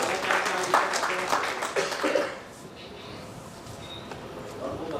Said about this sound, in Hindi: जोरदार तालियों के साथ माता का देश का आप स्वागत करें।